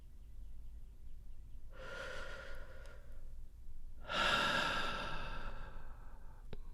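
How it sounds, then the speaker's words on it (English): Two deep breaths, a slow drawn inhale and then a longer, louder exhale. They are soft, close and intimate, with no talking. "Take a deep breath with me"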